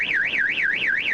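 A car alarm wails in a steady up-and-down siren sweep, loud and continuous, cycling several times in quick succession with nothing else audible.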